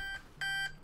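Electronic button beeps from the Portal 2 video game, two short tonal bleeps a fraction of a second apart, clear and fairly close with no talk over them.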